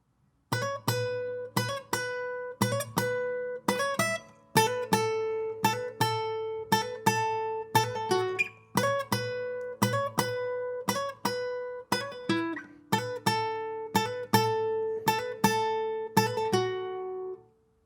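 Guitar plays the riff from a song: a steady run of evenly spaced plucked notes with hammer-ons and pull-offs, repeating in a bright, close, ringing pattern for about seventeen seconds, with no talking.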